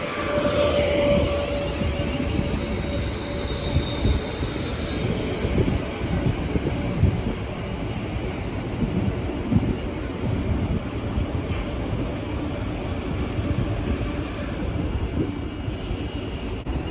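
A British Rail Class 350 electric unit, 350-266, at Milton Keynes Central station, giving a continuous moderate rumble and rolling noise with a faint high whine, steady for the whole stretch.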